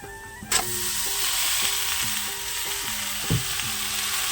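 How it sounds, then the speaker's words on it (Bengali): Ridge gourd going into hot oil tempered with cumin, bay leaf and onion, setting off a sudden loud sizzle that holds steady and close, with a second burst partway through and faint hum beneath, no talk. "তো এর মধ্যে এখন এই যে এই ধুন্দলগুলো ঢেলে দেবো।"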